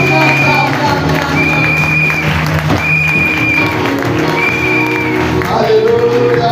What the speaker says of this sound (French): clap for our God